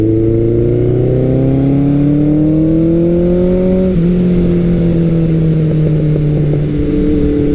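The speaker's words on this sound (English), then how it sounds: "the sound of a big air-cooled 4-cylinder bellowing through a pipe under full acceleration" Big air-cooled four-cylinder muscle motorcycle, a Kawasaki ZRX1200R or Suzuki GS1100L, bellowing through its exhaust pipe under full acceleration, loud and close, its engine note climbing steadily, dropping at a gear change, then pulling again.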